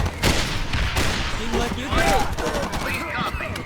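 Rapid bursts of gunfire in the Vietnam-set zombie shooter ShellShock 2, loud overlapping cracks from the first moments onward, layered with shouting voices and game effects.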